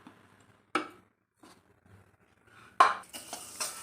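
Moong dal dry-roasting in a pan for homemade laddu: a few sharp scraping stirs and clinks of a spoon against the pan, separated by near silence, with brief rustling grains and no speech.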